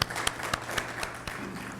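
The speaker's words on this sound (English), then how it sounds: "let us give big round of applause for ourselves" A round of applause from a gathered audience at a Rashtriya Ekta Divas celebration in a consulate hall, scattered, fairly soft hand claps with a few sharper single claps standing out.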